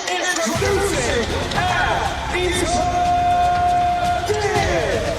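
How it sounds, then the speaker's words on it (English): A boxing crowd reacts to a fighter's introduction, a dense arena hubbub of cheers, whoops and shouting that swells and holds steadily across several seconds. "Listen to the crowd's response for AnEsonGib and Sensei."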